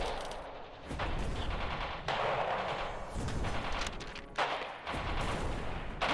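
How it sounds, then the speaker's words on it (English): Artillery barrage in the war game Radio General, with dense, sustained booming and crackling fire rolling continuously across the whole stretch, loud and near, with brief dips between salvos. "Don't move until the barrage lets up."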